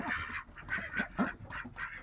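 Several ducks on a homestead quack and honk in a rapid, overlapping series of nasal calls close by, with no talking.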